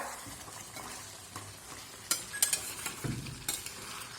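Chicken cooking in a pan is stirred quietly, with a low background sizzle that gives way to a cluster of sharper metallic scrapes and clinks in the latter half, with no voices.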